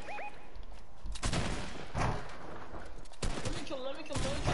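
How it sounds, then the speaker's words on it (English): Bursts of gunfire from an online shooter video game, several sharp volleys spaced across the moment, with players talking over the shots. "I just heard gunshots."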